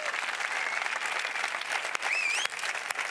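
Studio audience at a late-night comedy show taping in Ibiza applauding a guest, a continuous dense wash of clapping with a brief whistle partway through.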